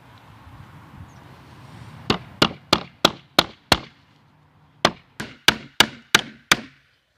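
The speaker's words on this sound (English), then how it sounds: "we're going to go ahead and take the rest of these nails and finish driving these nails in." Nails are driven into a wooden board with a hammer for a DIY rod holder: six sharp, evenly spaced blows, a short pause, then six more, close and loud over quiet background noise.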